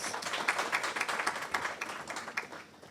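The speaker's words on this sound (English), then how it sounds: "A round of applause to Na, please." A room audience applauds a guest introduced at a currency conference, sustained clapping at moderate distance with a steady patter and no voices over it.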